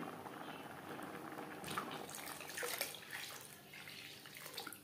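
Water pours into a pot of red lentil (masoor) vegetable dal, a steady splashing gush with brief louder swells, heard alone without talk.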